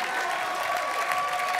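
Steady applause from a studio audience at a Hindi comedy show, dense and continuous clapping filling the room with a faint crowd murmur, no speech over it.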